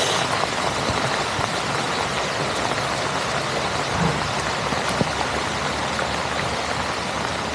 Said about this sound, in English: And it's got no sign of letting up the rain.